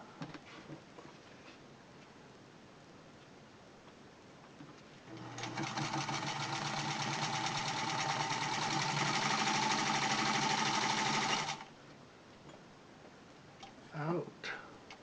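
A Sears Model 28 sewing machine runs close by, stitching in a steady whirring, rapid clatter for about six seconds before stopping, with light handling noises before and after.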